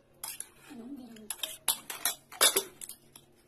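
Spices stirred with water inside a metal pressure cooker, then the lid set on. Scattered clinks and scrapes of a utensil against metal, a brief hum of a voice in the background.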